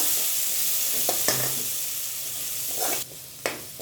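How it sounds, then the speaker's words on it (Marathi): Green masala paste with curry leaves sautés in a pan, giving a steady close sizzle and hiss with a few sharp stirring clicks, and the sizzle briefly quietens toward the end. "हे सर्व हिरवा मसाला चांगला परतून घेऊया"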